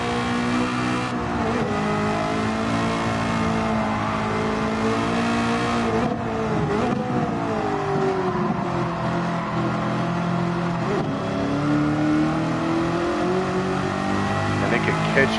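Car engine revving while driving, a smooth continuous tone that climbs and dips with the throttle, loud and steady throughout, with a voice talking over it.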